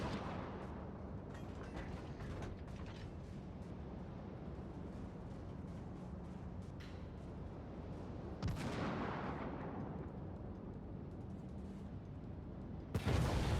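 Enemy shells slam into the battleship USS New York in World of Warships, heard as a few scattered, muffled impacts and one sharp crack near the end over a constant low engine and sea rumble.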